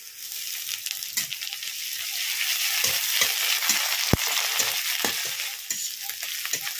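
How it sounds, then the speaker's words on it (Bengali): Onion and garlic fry in a pan with a spoonful of ginger paste. A steady sizzle runs throughout, broken by scraping stirs and one sharp utensil knock near the middle. "পেঁয়াজ রসুনটা একটু ভেজে নেব"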